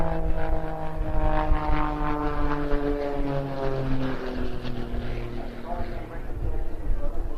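A propeller aerobatic plane performing vertical aileron, snap and torque rolls at the Bournemouth Air Festival drones with a strong, shifting engine tone whose pitch rises and falls as it manoeuvres, heard steadily across the air show.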